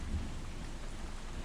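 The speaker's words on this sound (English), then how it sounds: "The thunder rumbled and rolled. The rain was so intense that the burrow they lived in started to" Heavy rain pours steadily through a thunderstorm while low, rolling thunder rumbles underneath, dense and continuous from start to finish with no voices.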